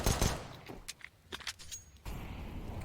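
Gunfire during a Counter-Strike match on the Inferno map, with penetration shots through walls: scattered sharp cracks and short bursts, fairly faint and uneven, then a steadier crackle of shots toward the end.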